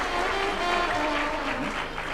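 An audience at a Ram Katha religious discourse claps steadily and densely through the whole stretch, a loud wash of applause with no break.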